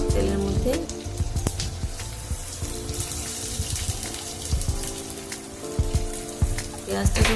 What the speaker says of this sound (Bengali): এবার আমি পেঁয়াজ কুচিগুলো ঢেলে দিচ্ছি। পেঁয়াজটাকে একটু ভাজবো এখানে তেলের মধ্যে।